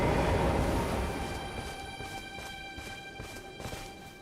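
Horse hooves clopping in the Elden Ring video game, a faint steady rhythmic clip-clop under a sustained tonal ambient hum, with no voices.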